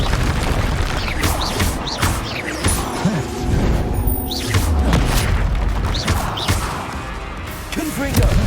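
Repeated booming blasts from the Confringo spell in Hogwarts Legacy, loud and frequent, layered with crashes, thuds and game combat effects, with occasional voices.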